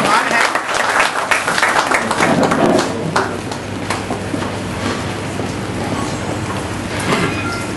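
Guests at a restaurant opening clap to welcome an invited guest, with loud, bursty applause up front that thins into scattered claps and murmuring voices, a low hum running underneath.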